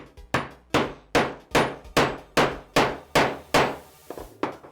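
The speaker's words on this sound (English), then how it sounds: "take our hammer" Hammer striking a metal snap setting tool to fasten a metal spring snap, nine sharp evenly spaced blows about half a second apart, close and loud, followed by a few softer taps.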